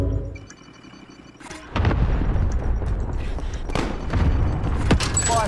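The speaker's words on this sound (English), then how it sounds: "Allied cluster strike inbound." Cluster strike explosions in the Warzone video game: a dense run of booming, thudding blasts that starts suddenly after a quieter stretch and continues loud and close, with repeated sharp impacts layered on one another.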